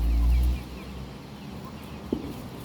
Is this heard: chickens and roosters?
yes